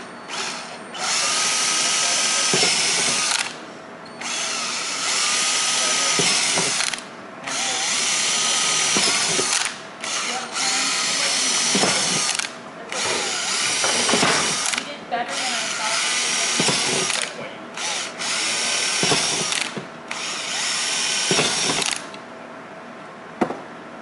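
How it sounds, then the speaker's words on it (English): Power drill boring a series of holes for a main capacitor array build, loud whining bursts repeated about every two to three seconds with brief pauses between, close and dominant throughout. "I drill all these. You drill every hole you see."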